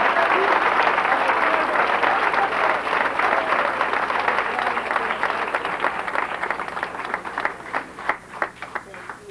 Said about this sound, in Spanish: Denle un aplauso al Rey porque lo merece.